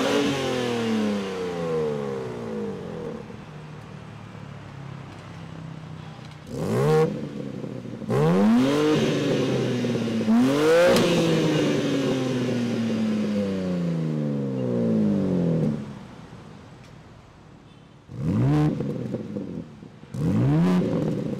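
A BMW M4 Competition coupe with a quad exhaust revs repeatedly, its engine climbing in several loud, sweeping bursts separated by idle lulls, heard up close with no talking.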